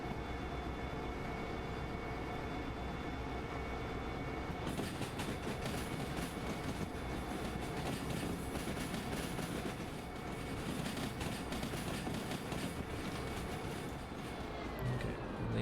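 Freight train carriages hauling timber roll along in the Derail Valley game, a steady rumbling drone with a faint rhythmic clatter of wheels, continuous and moderately distant, growing a little fuller partway through.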